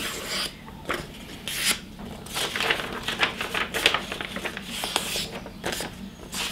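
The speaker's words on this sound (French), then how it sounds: "je vais couper une bande de papier" Scissors snip and rasp through printer paper in a series of uneven cuts, close and crisp, with some rustling of the sheet between cuts.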